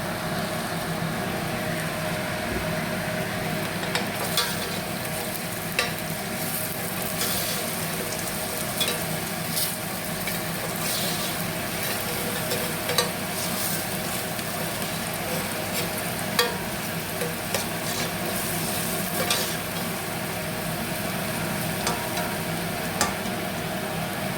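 An onion sizzles and fries in a pot of soup base, a steady continuous crackle that carries on throughout with faint stirring clicks and no talking.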